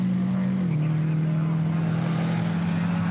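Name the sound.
Mack and Isuzu race trucks racing at Winton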